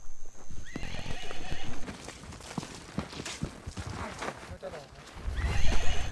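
A horse neighs and whinnies loudly in a rising, shaking call, with clip-clop hoofbeats and herd sounds around it in the open steppe of nomadic herders, while a voice narrates over parts of it.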